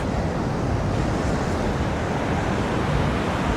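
Ocean waves wash against the shore as the tide comes in, a loud, steady broadband rush with wind blowing through it and no voices.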